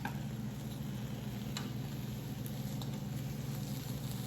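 Egg in a hole, an egg fried inside bread in a pan with salt, spices and seasoning, giving a steady, soft, close sizzle over a low hum, with no talking.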